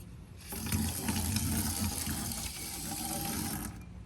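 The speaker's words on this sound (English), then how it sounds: "So we're going to add a little bit of water to this." Steady rush of water pouring into a container, continuous and fairly loud for several seconds before cutting off.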